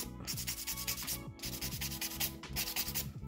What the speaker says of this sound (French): Sinon vous allez trop limer vos ongles.